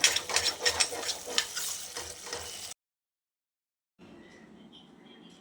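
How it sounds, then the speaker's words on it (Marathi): Greens being stirred in a hot oiled pan, kept moving so they don't stick, with scraping, sizzling strokes at close range for a few seconds before a sudden cut to silence, then quieter frying. "त्याला सारखं हलवायला लागतं नाही तर खाली असं लागून बसतं"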